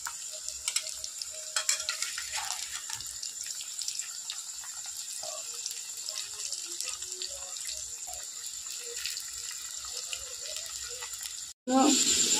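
Sliced potatoes frying in a pan of hot oil while making a coconut-milk biryani, giving a steady close sizzle with stirring and clinking utensil noises throughout and a short break near the end.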